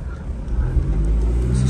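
Low steady rumble of a 1995 Mazda Bongo Friendee Aero Free Top 4WD camper's 125-horsepower turbo diesel engine idling nearby, continuous and fairly loud throughout.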